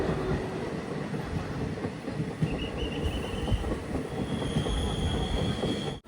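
Train on the international line from Jaynagar, India, to Janakpur, Nepal, heard from inside as a steady rumble with rhythmic wheel clatter and faint squealing, continuous and fairly loud throughout.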